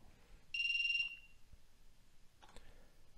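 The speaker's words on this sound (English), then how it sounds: "Oh, it's beeping so loud." A drone flight controller running INAV emits a loud, sustained electronic beep for about half a second after a reboot, followed by quieter clicks and a short chirp, with no talking.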